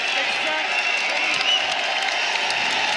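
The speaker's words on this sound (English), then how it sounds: "Crowd getting behind him." Crowd at a college wrestling match, 174-pound bout between Pitt and NC State, a dense continuous wash of clapping and cheering from the stands, close and steady with no pauses.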